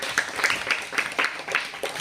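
A group of schoolchildren clapping for the winners of a classroom game, with rapid, uneven claps in loose bursts at moderate loudness and a faint voice in the background.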